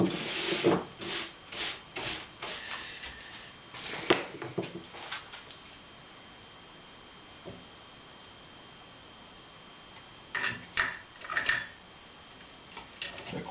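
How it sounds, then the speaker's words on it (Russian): A wooden jaw harp blank is being sanded or rasped by hand. Quiet, uneven bursts of scraping strokes come close up, with pauses between them and no voices. "потом еще надо будет все довести наждачкой"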